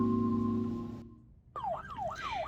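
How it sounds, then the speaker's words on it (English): Electronic coop alarm at a backyard chicken coop sounds with a rising and falling wail, loud and close, after a steady tonal hum that cuts off briefly. "a wild bunny running by my trail cams and accidentally triggering my coop alarms"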